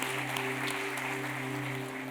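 A church congregation applauds, a dense, even crackle of clapping over a sustained low organ or keyboard tone, steady for a couple of seconds.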